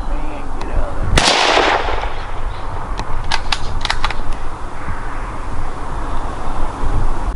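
A single loud gunshot goes off outdoors while hunting nutria, followed by quieter clicks and handling noises over a steady background of wind and ambience.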